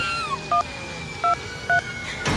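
Three short, loud two-tone telephone keypad beeps, evenly spaced, as a number is dialed to call for help, followed by a brief burst of noise at the end.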